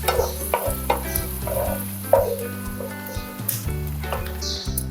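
Peanuts fry in a pan with a constant oily sizzle while a utensil stirs them, scraping and clinking in short irregular bursts close up.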